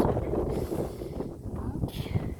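Gusty wind buffets the microphone outdoors at a riding session with a horse, loud, uneven blasts that rise and fall throughout.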